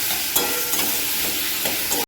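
A masala of tomato, salt, turmeric, a little sugar and grated ginger fries and is stirred in a pan. It gives a steady close sizzle, with a few sharp scrapes from the stirring.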